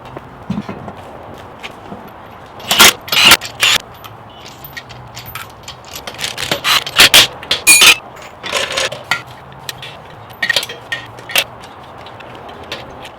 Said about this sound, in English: Let's reinstall the wheel.